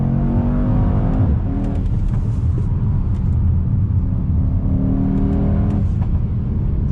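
A Mercedes-AMG E63 S wagon from 2021 with all-wheel drive accelerates hard, its engine producing a loud, steady roar that rises in pitch through the gears and is close to the listener.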